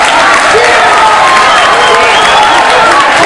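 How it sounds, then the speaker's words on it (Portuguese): A large crowd at a Brazilian political gathering claps and cheers loudly as someone arrives, a dense continuous roar of hands and voices, very close and saturated. "todo mundo batendo palmas para ele ali"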